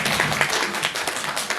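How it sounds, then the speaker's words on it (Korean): A crowd claps at a Korean remodeling information session held by a construction firm, a dense, continuous patter of many hands filling the room, fairly loud and unbroken. "큰 박수 부탁드리겠습니다."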